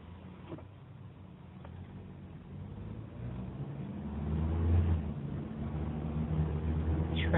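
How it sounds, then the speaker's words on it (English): Steady engine and road rumble inside a moving car, a low continuous drone that swells slightly midway, with no talking. "Traveling in the car."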